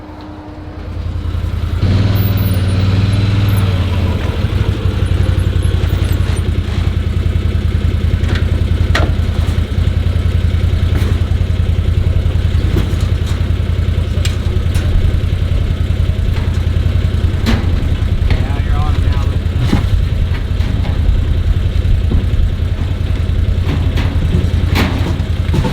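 A truck engine runs steadily and loudly throughout, starting up after a brief quiet moment and then holding a constant heavy drone as it hauls a load of prickly pear cactus to the dump.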